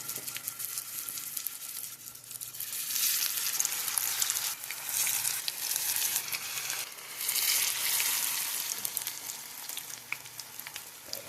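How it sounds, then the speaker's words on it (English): Potato patties made from leftover mashed potatoes and vegetables fry in hot avocado oil, giving a close, steady crackling sizzle that swells and eases slightly without stopping. "And I'm going to add my potato patties to the hot oil."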